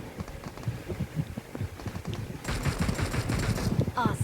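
Bursts of gunfire in the PUBG video game during a red zone bombardment, loud and dense, growing heavier and more continuous partway through, with a voice talking over it.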